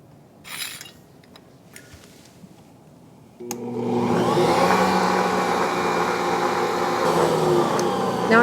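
An electric mixer whirs steadily as it blends sugar free pound cake batter, switching on after a few seconds of quiet clinks and then running loud and continuous with a buzzing motor tone.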